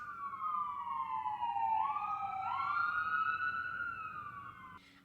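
A siren wails steadily, rising and falling in pitch as an emergency vehicle passes nearby, loud and clear with no talking.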